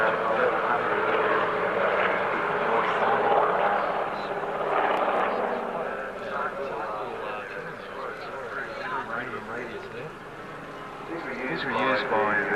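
Military aircraft flying at the Wings Over The Illawarra 2017 airshow, with a steady, loud engine drone filling the air throughout while people talk over it.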